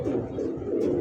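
Young pigeons cooing at a pigeon seller's, soft low throaty coos rolling close by in a short continuous burst with no speech.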